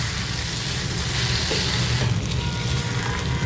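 Peppercorns sauté in hot oil in a pan for Malabar chicken, giving a continuous, fairly loud sizzle with a few faint clinks and stirring scrapes and no talking.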